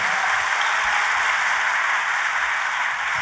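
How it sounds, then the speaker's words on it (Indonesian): A church congregation applauds during a sermon, with steady, dense clapping throughout, loud and close, with no talk over it. "tepuk tangannya yang paling meriah"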